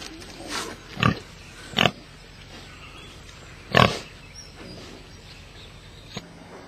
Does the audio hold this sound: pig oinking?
yes